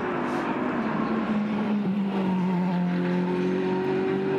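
Ferrari GT race car accelerating at Brands Hatch in a Blancpain GT World Challenge Europe practice session, a steady engine note climbing in pitch as it pulls away, loud and continuous, heard alone.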